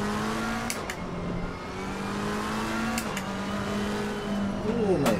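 Race car engine in the Assetto Corsa Competizione sim running on cold tyres, a steady droning note with slight pitch shifts throughout, brief clicks and a rising rev near the end.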